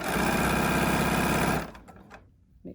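A BERNINA sewing machine stitches patchwork fabric in a fast, steady mechanical whir for about a second and a half. The motor then stops abruptly, leaving faint handling clicks behind.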